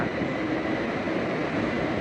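Bangkok skytrain running past, a steady broadband rumble and rushing roar that holds evenly loud for the whole stretch, with no voices over it.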